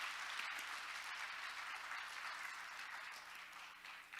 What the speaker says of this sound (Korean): Please give a big round of applause again.